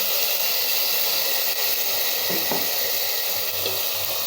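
Ginger garlic paste sizzles in hot oil for a mushroom biryani, a steady close frying hiss that runs throughout with faint stirring clatter beneath.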